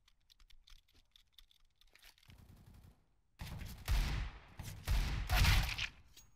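Bursts of rapid gunfire in an online shooter video game crack out loud and close after a stretch of quieter clicking, firing in several quick volleys.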